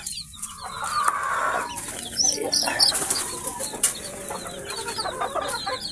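Chickens and chicks cluck and peep on a farm, a busy overlapping chorus of short calls with a brief crow-like cry, moderately close and without talk.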